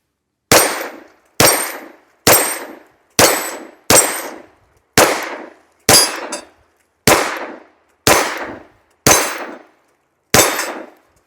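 An FN 510 Tactical pistol fires Federal rounds at steel targets outdoors, eleven sharp, loud single shots with ringing decay, spaced about a second apart in a steady rhythm.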